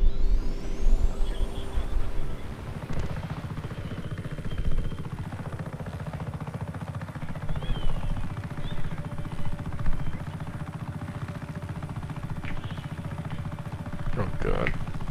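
A helicopter in the video game Just Cause 3 drones with a low continuous rotor hum and engine whine, with passing vehicle sounds and a few shifting tones layered over it throughout.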